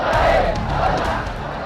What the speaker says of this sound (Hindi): अमेरिका ब्रिटेन के खिलाफ नारेबाजी हो रही है।